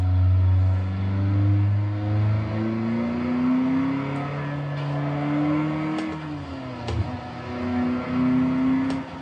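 A car engine in a manual-transmission driving simulator game revs and drops through gears during braking and downshifts, a loud steady drone with pitch rising and falling and a blip for rev matching.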